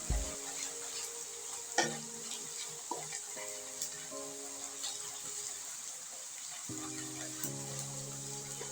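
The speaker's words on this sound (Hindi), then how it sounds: "अब अदरक लहसुन को हमने अच्छी तरह फ्राई करना है" Ginger garlic paste fries in a pan with a constant bright sizzle, while a spoon scrapes and stirs in irregular clinks and knocks. The cooking is close up and carries on without pause, with no voices.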